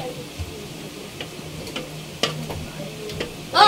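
Battered quail eggs go into a hot pan, giving a low continuous frying hiss with scattered ticks and clicks of stirring, close by and steady, with a louder burst at the end.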